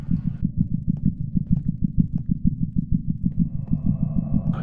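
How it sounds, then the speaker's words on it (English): Loud, thudding heartbeat effect in the horror game The Orphanage, pulsing in a steady, quick rhythm close up, with faint tones creeping in toward the end and no talk. "I can hear my heartbeat really loud"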